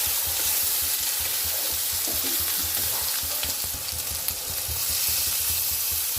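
Turmeric, chilli and cumin sautéing with mushrooms in a kadai, giving a loud continuous close sizzle with hiss and faint stirring underneath.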